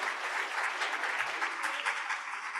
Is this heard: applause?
yes